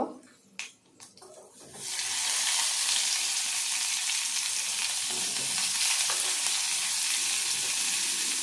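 Onion drops into hot oil with tempering spices: a few clinks come first, then a loud, dense sizzle bursts up and holds steady and close for several seconds.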